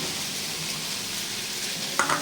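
Onions sizzling in a pan, a steady even hiss of frying close by, with a brief clink near the end and no talking.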